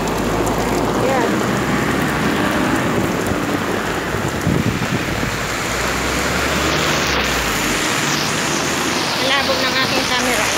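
Steady heavy rain pours on a rainy morning, a dense continuous hiss of drops striking surfaces close by, loud throughout.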